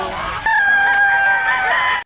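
A fighting rooster crows loudly and close, one sustained strained call held for over a second before cutting off.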